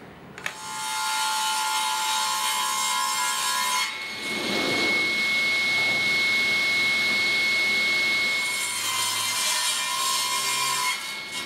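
Sawing a strip of wood at 90 degrees for an end-grain cutting board, a loud, close, continuous machine saw whine with a grinding cut through the timber, pausing briefly midway before resuming.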